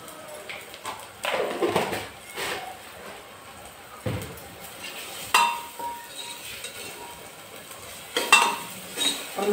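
Spices roast in a pan on a home kitchen stove, with intermittent scraping and clinking of a spoon against the pan in short irregular strokes, moderately close, over low background noise.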